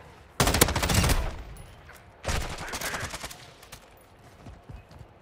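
Video game gunfire crackles in two sharp, rapid bursts, with scattered softer shots trailing after them at a moderate distance.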